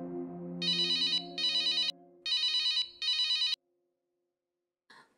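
A telephone rings with an incoming call in four evenly spaced electronic trilling bursts. Low background music fades out beneath it and ends before a faint closing click.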